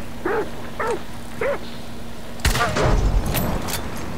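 Several dogs bark in the Hunt: Showdown video game, three spaced barks followed by louder overlapping barks and gunfire-like bursts, with a voice briefly heard.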